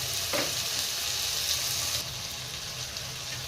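Cumin seeds fry in hot oil in a pan, a steady close hiss and crackle of sizzling that runs continuously and eases slightly partway through, with no talking.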